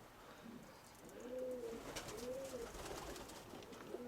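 Soft, repeated pigeon coos rise and fall in a slow rhythm over a low background hum, fairly close.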